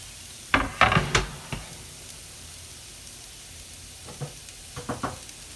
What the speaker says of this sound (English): And we just get that frying up.